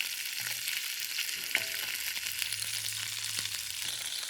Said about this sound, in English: This side you fry them up, kind of browning them.